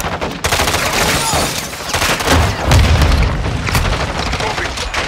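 Explosions in Call of Duty Modern Warfare II gameplay, several heavy booms among rapid gunfire in a loud, dense battle mix, with shouted voices briefly heard.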